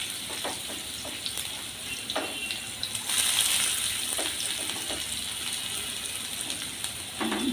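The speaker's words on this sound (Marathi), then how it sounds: "तेल तापलं आहे माझं। मी पहिले कांदा घालते।" Onion dropped into heated oil in a pan for quick flaxseed rice, a fairly faint steady sizzle with light stirring taps and a brief louder crackle partway through, no talking.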